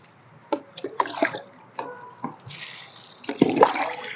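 Liquid fertilizer diluted with water, three liters to one, poured onto plants in a garden, giving a splashing, gurgling flow in several bursts, loudest toward the end.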